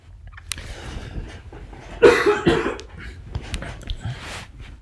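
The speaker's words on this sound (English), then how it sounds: "Sorry, I had to cough there." A short burst of coughing from a single person, moderately loud against a faint, noisy background, preceded and followed by quiet breathing.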